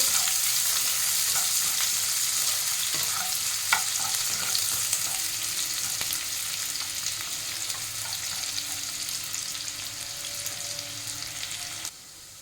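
Chopped onion with nigella seeds frying in hot oil gives a steady, fairly loud close sizzle with light stirring scrapes, which drops off abruptly near the end.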